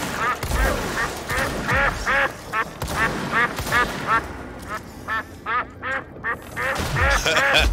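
Repeated cartoonish duck quacks and honks in quick bursts from a video game, loud and close, with game sound effects and a few muffled voice fragments mixed in.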